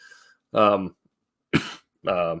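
A few harsh coughs in separate bursts, close and fairly loud, with silence between them.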